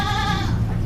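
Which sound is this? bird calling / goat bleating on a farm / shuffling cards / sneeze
goat bleating on a farm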